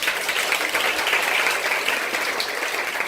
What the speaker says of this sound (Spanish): quiero que te regales tú misma un fuerte aplauso